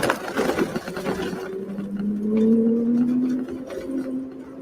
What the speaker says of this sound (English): Open that wheel, squeeze gas.